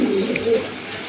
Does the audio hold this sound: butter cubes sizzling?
no